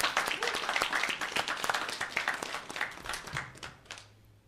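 A panel audience claps in a burst of scattered, fairly close applause that thins out and fades toward the end.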